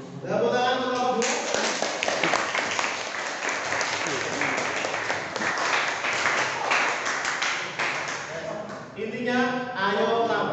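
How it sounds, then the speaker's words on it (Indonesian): A classroom of students claps for their teacher during an Islamic economics lesson, a loud dense round of applause lasting several seconds, with the teacher's voice briefly heard before and after it. "Tepuk tangan untuk Bapak Guru"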